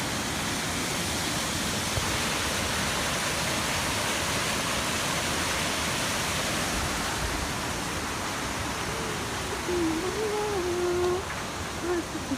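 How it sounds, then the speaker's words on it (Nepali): A waterfall in a natural setting roars with a steady, broadband rush of falling water heard close up, unbroken throughout, with a faint voice-like tone briefly surfacing near the end. "ए झर्ना कस्तो राम्रो रहेछ"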